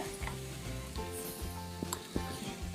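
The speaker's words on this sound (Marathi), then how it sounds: "मंद आचेवर मी हे खोबरं वाळलेलं भाजून घेतलेलं आहे" Dried coconut roasts in a pan over a low gas flame, making a faint, steady dry sizzle broken by soft scraping stirs and a couple of light clicks, quiet and close.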